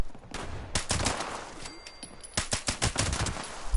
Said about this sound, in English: what I'm here to show you is the Suppressor's Explosive Automatic Rifle